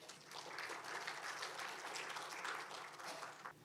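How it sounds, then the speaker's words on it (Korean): Audience applause at a public hearing on a national basic research promotion plan, a sustained, fairly quiet wash of clapping from a seated crowd that holds steady and then tapers near the end. "큰 박수로 환영해 주시기 바랍니다"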